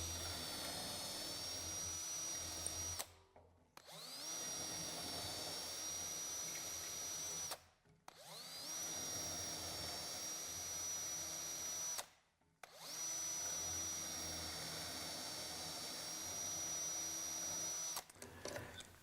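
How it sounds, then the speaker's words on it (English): A power drill bores mortise holes for BeadLock floating tenons through a drilling guide set to the B position, four loud whining bursts separated by short pauses as the bit is moved between holes. "Tighten it up again and drill the 4 B position holes."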